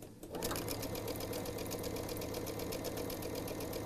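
A sewing machine chain piecing quilt charm squares hums steadily and close throughout, with a fast, even stitching rhythm and no pauses.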